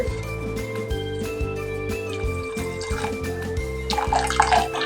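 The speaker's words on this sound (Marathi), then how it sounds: "त्याच्यामध्ये आणखी थोडंसं पाणी मी ॲड करते" Water poured into a pot of cooking sambar with small vegetable pieces, a steady pouring wash running throughout over a low, continuous hum, growing louder and splashier near the end.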